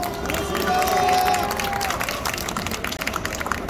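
Audience applause at a Democratic Party launch rally in Busan opposing the Fukushima contaminated water release, a burst of clapping and crowd noise that swells then gradually thins into scattered claps with murmuring.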